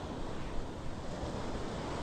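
Ocean surf on a California beach, a continuous broad wash of breaking waves mixed with wind noise, steady and enveloping, with no voices.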